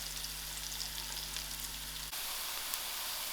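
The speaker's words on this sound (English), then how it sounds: "jeera, saunf, and my elaichi. I will let this fry for a little more while." Cumin, fennel and cardamom frying in hot oil for a gram dhal and brinjal curry, a steady close sizzle with a low hum that cuts out partway, the crackle continuing alone.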